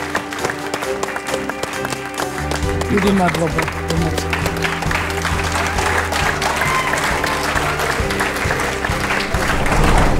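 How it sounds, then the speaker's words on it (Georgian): Applause from the audience at a Georgian TV singing competition fills the space as loud, continuous clapping over a music bed, with a brief spoken thanks near the start. "გავაცილოთ აპლოდისმენტებით თაზო წივწივაძე."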